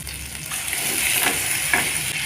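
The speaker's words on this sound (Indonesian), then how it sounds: "Yuk kita mulai tumis bumbu halusnya saudara" A ground spice paste with candlenuts for mie goreng sizzles as it sautés in a pan, a steady, close frying hiss with small bubbling pops and no talk over it.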